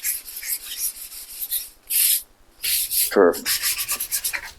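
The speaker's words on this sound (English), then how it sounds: "something in my brain tells me sand with the grain. So that's what I'm doing" A wooden countertop is sanded by hand with the grain in bursts of rasping strokes separated by short pauses, close and clear.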